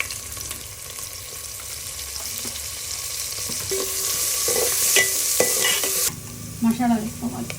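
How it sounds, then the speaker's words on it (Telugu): Onions and green chilies sizzle in hot oil in a pot, stirred with repeated scraping strokes; the frying grows louder midway, then turns to clattering stirs near the end. "ఆయిల్ కాగినాక ఆనియన్స్ ఫ్రై చేసుకోవాలి"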